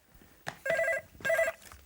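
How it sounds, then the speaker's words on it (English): A telephone bell rings indoors in two loud, buzzing bursts with a short gap between them, preceded by a single clunk. "Oh, there's the phone."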